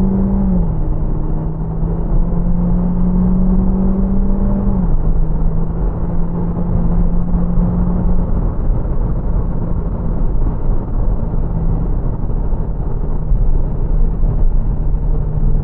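A Nissan Juke 1.6 DIG-T with X-Tronic CVT, Nismo trim, pulls hard at full throttle in manual mode, its steady engine drone holding a constant pitch with a brief step around five seconds, loud and close throughout with no talk.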